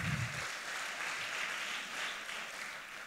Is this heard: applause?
yes